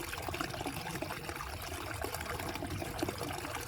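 Water rushing down a steep slope over heaps of gravel and stones, a steady broadband splashing and trickling wash that holds constant and close throughout with no voices.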